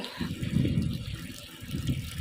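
Water gushes steadily from a pump motor outlet as a tank overflows outdoors in a garden plot, a continuous loud splashing rush with no talk over it.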